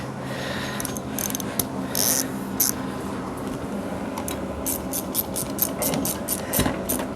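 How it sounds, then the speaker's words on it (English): A ratchet clicks in quick bursts while a bolt is tightened on a 1998 Arctic Cat 500 4x4 all-terrain vehicle, fairly close, with a light mechanical clatter under a low background hum. "You'll tighten it down."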